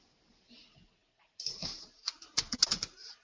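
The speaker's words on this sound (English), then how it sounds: "We can hear you typing, Tegan." Keyboard typing over a video call: after a near-silent stretch, a quick flurry of sharp, irregular key clicks, moderately close and with no talk over it.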